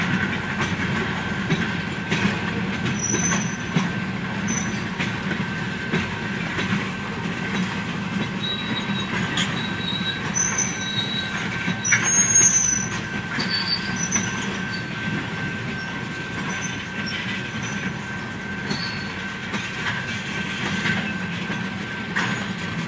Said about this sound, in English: Actually a small train.